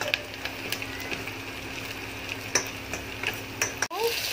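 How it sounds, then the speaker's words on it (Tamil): Tomatoes added to softened onions sizzle in a pan for a cauliflower kulambu, a steady close frying hiss with a few scattered ticks and one sharp clack near the end. "இப்போ வெங்காயம் வதங்கிடுச்சு, நம்ம தக்காளியை போட்டுக்கிட்டோம். இப்போ தக்காளி நல்லா வதங்கட்டும்."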